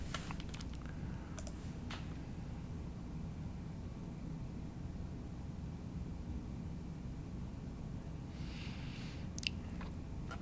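Computer keyboard keys pressed for copy and paste shortcuts: a few light, scattered clicks near the start and end over a steady low room hum, with no talking.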